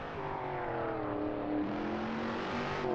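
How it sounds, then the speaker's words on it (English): A Shelby Cobra 427 in the Assetto Corsa racing game drones along with engine roar while sustained tonal tyre squeal slides in pitch over it, steady and loud throughout with no talking. "You can hear the tyres squealing."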